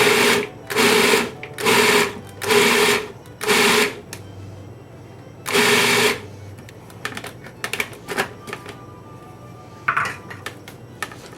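A home food processor chops ground beef in short loud whirring pulses, about six bursts in a row, followed by quieter clatter and knocks as the contents are handled.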